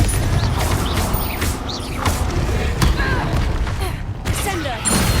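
Confringo blasting spell explosions in Hogwarts Legacy combat: repeated sharp bursts and thuds in a busy, loud battle mix, with a voice shouting intermittently.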